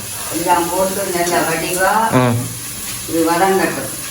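Green chillies sauté in a pan for egg rice, giving a steady background sizzle that runs under close conversation nearly throughout.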